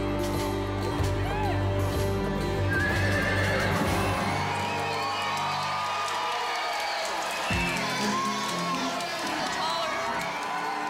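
A horse whinnies loudly amid a noisy crowd, with cheering and chatter filling the background throughout.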